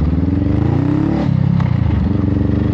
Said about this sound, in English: My motorcycle, I call it bike.